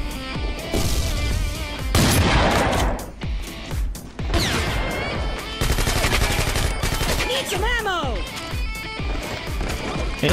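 Gunfire in a competitive video game match crackles in rapid overlapping bursts and booms throughout, loud and busy, while a commentator talks excitedly over the shooting.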